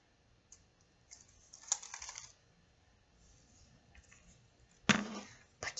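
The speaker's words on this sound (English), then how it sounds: "Now we're gonna do keyboard ASMR." Computer keyboard typing for ASMR, scattered crisp key clicks and short clattering bursts close to the listener against near silence, with quiet gaps between taps.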